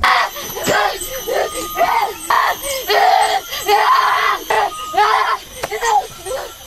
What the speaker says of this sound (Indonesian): Lalu dia berteriak tidak jelas.